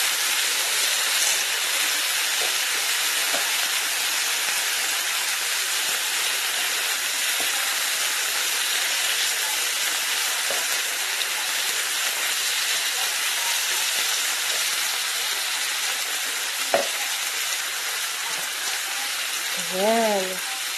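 Meat grilling on a barbecue gives a steady, broad sizzling hiss that holds at an even level throughout, with a few faint knocks and brief sounds near the end.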